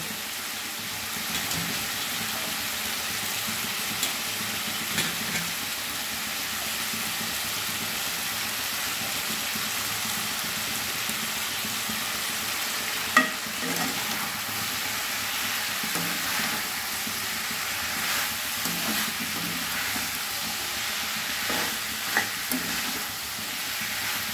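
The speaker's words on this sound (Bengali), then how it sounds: "বেশ খানিকক্ষণ আমি নাড়িয়ে নেব" Mixed vegetables with yardlong beans being stir-fried for labra, a steady close sizzle of frying running throughout with a few louder scraping stirs and spatula knocks against the pan.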